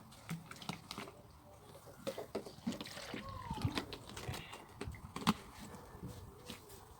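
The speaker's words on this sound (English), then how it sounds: "Just gonna add a bit more water" Water trickling and splashing onto regrowing mint and other herbs: soft, close patters and dribbles in short irregular bursts, faint and quiet, with no talk.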